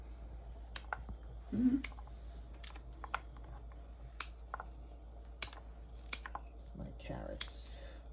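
Knife chopping carrots for Jamaican curry goat, a scattered run of sharp clicky cuts on a board, fairly close, with a brief voice in the middle.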